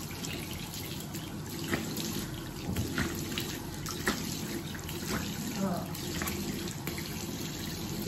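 Tap water runs steadily into a sink during rinsing after a home beauty spa treatment, a constant hiss with faint splashes and occasional drips throughout.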